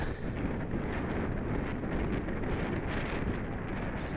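Steady broadband wind rushes across the microphone while riding a Halfords Carrera e-bike into a headwind at about 16 mph, a dense continuous roar with no distinct events.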